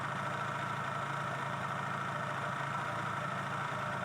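Motorcycle engine idling while the drive chain is being cleaned, a constant mid-pitched running hum with a fine rapid pulse, steady and unbroken.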